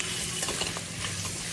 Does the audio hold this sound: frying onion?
yes